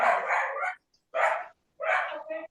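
A dog barks three times in quick succession, each bark a short rough burst with brief silences between, heard clearly and fairly close in a quiet kitchen.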